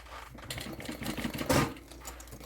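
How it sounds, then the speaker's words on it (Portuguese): A sewing machine with a presser foot stitches a zipper onto synthetic fabric for a waist bag. It makes a close, rattling mechanical run in short bursts, and the needle chatters loudest near the middle. "Tem que costurar o zíper junto com um pé de máquina."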